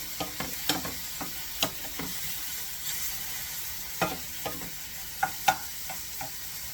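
Ham sautéing in a pan with macaroni nearby, a soft steady sizzle beneath repeated scraping and stirring clicks from a utensil against the pan, with no one talking.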